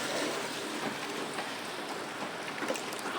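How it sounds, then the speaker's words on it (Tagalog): Rain falls in a coastal area near the sea, a steady, dense hiss of drops on surfaces that stays constant and fairly close throughout, with no voices. "Ang ulan"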